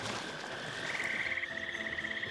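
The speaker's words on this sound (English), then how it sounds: "I did get an audio track for the crickets and frogs and any animals that might be here" Frog croaks in a Minecraft mangrove forest ambience, a steady rhythmic trilling chorus that grows louder partway through over a soft background hiss, with no voices.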